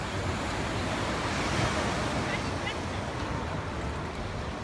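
Waves and surf on a hotel beach with a large pier in Alanya, Turkey: a continuous, loud wash of breaking water with some wind rumble, steady and without pause.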